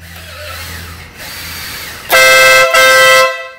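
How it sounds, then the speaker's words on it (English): A loud, harsh air horn fitted to a 2018 BMW S1000RR motorcycle blasts twice in quick succession after a stretch of lower mechanical whirring, very close and piercing. "He really, really wanted an air horn."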